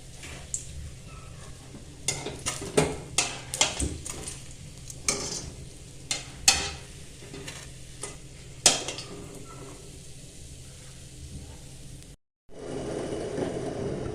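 Bread slices for shahi tukda frying in a pan of oil, a steady low sizzle with intermittent clinks and scrapes of a utensil, with no talking, briefly cutting out near the end.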